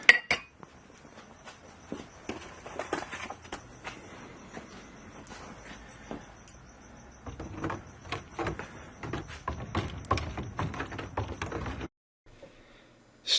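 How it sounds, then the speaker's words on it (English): Metal spoon stirring salt in a container, giving faint scraping clinks and irregular taps that grow busier toward the end before stopping, quiet and close with no talk. "Simply add the salt to the container and stir it with a metal spoon."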